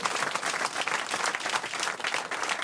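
A French television comedy show's studio audience claps, a dense, continuous burst of applause throughout.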